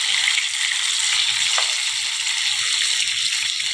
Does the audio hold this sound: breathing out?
no